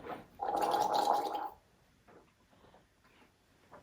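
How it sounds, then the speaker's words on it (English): Vigorous gargling and mouth rinsing during an oral care routine, a loud bubbling burst of about a second followed by quieter faint swishing. "So rinse vigorously, gargle,"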